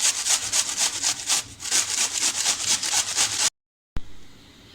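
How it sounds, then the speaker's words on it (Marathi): Cabbage is grated on a hand grater in a kitchen, rhythmic rasping strokes repeating close by for several seconds, then a sudden stop followed by quiet. "आता आपल्याला असा किसणीवर छान असा आपल्याला किसून घ्यायचं आहे."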